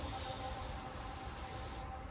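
A pump sprayer lays a steady, soft hiss of 50-50 oxidation remover mix onto a test spot below a window, quiet and continuous with no voices.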